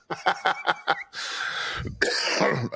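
A burst of about five quick coughs, followed by a long breathy exhale and throat-clearing rasp, close and fairly loud.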